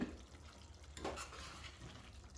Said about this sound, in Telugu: ఇవన్నీ వేసిన తర్వాత ఒకసారి అయితే కలపాలి